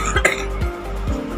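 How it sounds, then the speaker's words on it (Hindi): Three sharp coughs, close and fairly loud, evenly spaced with short pauses between them and no talking. "खांसी हो रही है मुझे"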